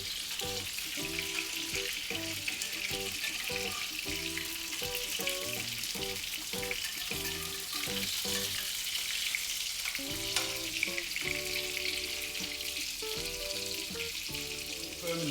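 Spicy Thai fish cakes frying in a pan of oil, a continuous dense sizzle heard close up and alone, with some background music.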